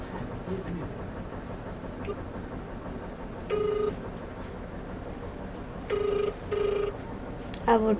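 Telephone ringback tone during a call, three short electronic ring bursts repeating at intervals over a steady high insect-like chirping and faint background noise.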